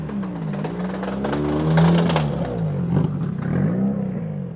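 A drift car at the Gunsai touge runs its exhaust loud and close, the engine note rising and dipping through revs in a sweeping, wavering pattern with some clatter, alone with no talk.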